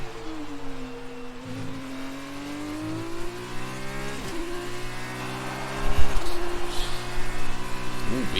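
Race car engine in an F2 racing video game at Sochi on a flying lap, a sustained high-pitched whine that climbs and drops through gear changes, loud and continuous, with brief tire noise near the end.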